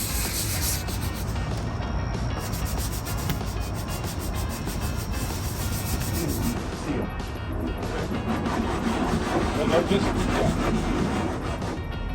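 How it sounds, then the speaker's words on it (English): Steady, continuous abrasive rubbing of sanding a second coat of Bondo body filler on a van, fairly close and constant throughout with no pauses. "This is the second coat of Bondo that we put on. A little thinner coat, we're just sanding it down."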